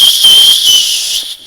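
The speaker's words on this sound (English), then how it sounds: "It's also a whistle." A small whistle built into a wristwatch gives one steady, shrill, piercing tone lasting over a second, close and loud, then cuts off.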